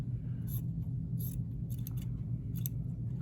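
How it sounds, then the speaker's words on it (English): Scissors trim the seam allowance on string-pieced quilt fabric, making several quick crisp snips close up over a low steady hum, with no voice. "And one more trimming of the seam, because that's not a 1/4 inch."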